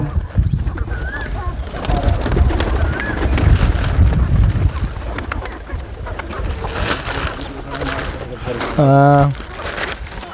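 Pigeons coo softly on a farm with cattle and chickens, amid outdoor chatter and background noise, with a short burst of repeated low cooing near the end.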